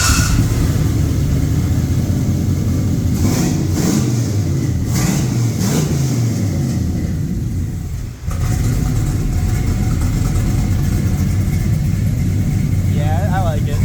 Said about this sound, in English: that is way rowdier than the last exhaust